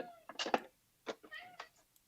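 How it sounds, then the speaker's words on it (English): A cat meows twice indoors, a short close pair of calls followed by a softer second pair, faint and alone against silence. "I hear a cat."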